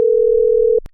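A steady telephone dial tone hums alone for most of a second as a call is placed, then cuts off into a short click.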